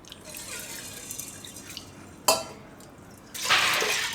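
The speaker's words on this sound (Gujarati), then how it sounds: "આ રીતે એમાં પાણી નાખશું થોડુંક" Water poured into a pressure cooker holding washed, soaked bajra (pearl millet), a soft trickle and splash rising to a louder, brighter pour near the end, close and alone with no talk.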